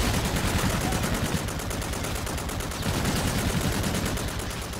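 Continuous rapid gunfire from an Infinite Warfare Zombies shooter game, dense and loud throughout with barely any gaps, a brief shouted voice faintly under the shooting.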